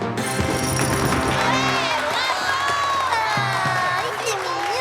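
A cartoon audience applauds and cheers for a Yeti hunter's capture, a dense crowd clatter running throughout while a voice speaks over it.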